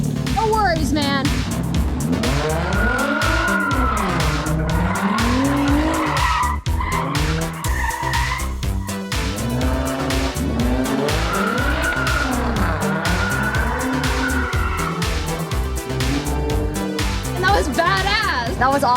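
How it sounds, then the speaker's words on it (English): Cars doing burnouts and drifting in a parking lot, with long screeching tire squeals that rise and fall over loud revving engines, continuous and close, and people talking underneath. "it sounds like they're doing burnouts out there"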